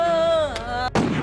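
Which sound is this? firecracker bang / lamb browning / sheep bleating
firecracker bang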